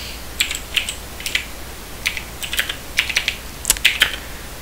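Fast, irregular clacking of keys on a computer keyboard during coding work, a run of sharp close clicks in uneven bursts with no voice over them.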